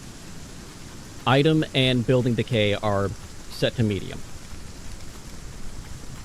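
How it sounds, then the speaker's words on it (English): Heavy rainstorm in a survival video game makes a steady, broad hiss throughout, with a voice talking over it for part of the time. "Which still kind of sucks with the heavy rains, because every time it storms like this"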